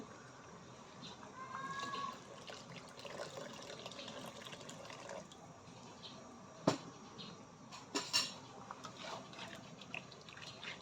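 Faint running water trickles into a cooking pot amid quiet kitchen noise, with a couple of sharp clinks partway through.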